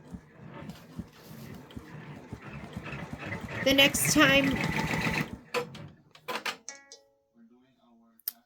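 An embroidery sewing machine stitches in a rapid, rhythmic mechanical patter that rises and then stops abruptly, followed by a few clicks and handling noises. A person talks softly over it.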